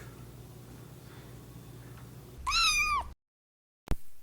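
A cat, a free yard-sale find named Minnie, gives a single drawn-out meow up close after a quiet stretch of low room hum, followed by a brief silence and a sharp knock.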